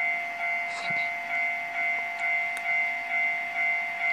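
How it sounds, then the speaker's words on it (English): A freight train passing a Japanese level crossing in the Trainz railway simulator, heard as a steady rolling rumble with a sustained bell-like crossing tone throughout and faint rhythmic pulses, no voices. "a train's coming. This time it's going to be a freight train"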